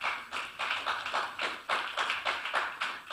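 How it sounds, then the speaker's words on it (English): Applause from an audience at an African forensic medicine conference, a short burst of rhythmic clapping heard up close, fairly quiet and even throughout. "Please, a round of applause."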